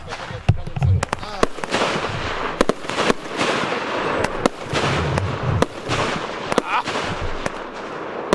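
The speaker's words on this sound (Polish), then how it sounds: "Titanium salute. Coś, co każdy piromaniak uwielbia, między blokami." Rapid, loud titanium salute fireworks bursting in a sharp, crackling barrage, echoing between apartment blocks, with voices faintly underneath.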